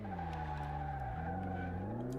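Race car tires skidding and squealing in Car Mechanic 2018, a sustained engine tone that dips and rises as the car slides, loud and continuous with no talk.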